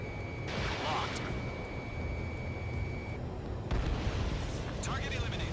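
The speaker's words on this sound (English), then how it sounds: "Love these sudden explosions." Heavy explosive booms and rumbling blasts in Ace Combat 7: Skies Unknown on PlayStation 4, with a sustained electronic tone and a second burst of impacts later on.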